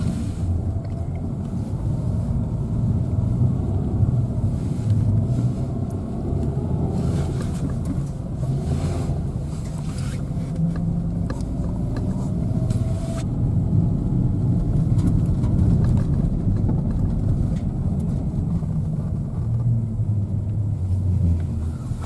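A car rolls along a rural village road on the way to a river, a steady loud low engine and tyre rumble with wind buffeting throughout and no talk.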